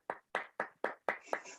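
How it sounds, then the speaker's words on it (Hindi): A few slow, distinct hand claps, about six in a steady rhythm, faint and close at a business meeting, with no crowd wash behind them. "आपका एक्साइटमेंट और तालियां होनी चाहिए सर।"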